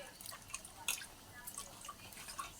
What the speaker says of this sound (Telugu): చింతపండు కొంచెం వేసి ఇట్లా పిసికేసి